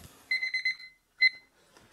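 A kitchen timer alarm goes off beside a battery being tested, sounding a rapid burst of high electronic beeps followed by a short second burst, loud and close with no talk.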